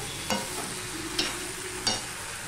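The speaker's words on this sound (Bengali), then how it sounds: "এবার আমি আবারও 1 মিনিটের মতন কষিয়ে নেব" Papaya and fish head curry sizzles gently in a pan while a spoon stirs it, three distinct scraping strokes standing out over a quiet, steady fry, with no talking.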